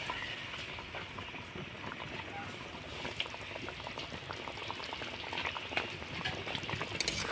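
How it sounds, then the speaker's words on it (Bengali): Jackfruit seed paneer gravy bubbling steadily in a pan, a continuous close boil with small pops and bursts throughout and no talking. "ঝোলটা আমি খুব ভালো করে ফুটিয়ে নিয়েছি"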